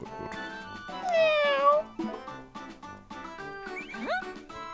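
A cat with white fur and a red collar meows in Yo-kai Watch 3, several drawn-out, bending cries standing out clearly over light game music.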